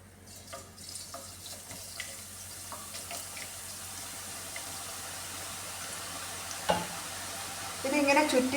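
Boondi laddu batter drips into hot coconut oil and fries with a steady, even sizzle, close and moderately loud, with faint clinks of a utensil and a brief louder stir near the end.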